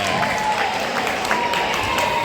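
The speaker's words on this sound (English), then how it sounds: "crowd very, very much excited to see that" A volleyball crowd at a varsity match between Kings and Anderson cheers and claps after a point, a dense steady roar of applause close by, with voices mixed in throughout.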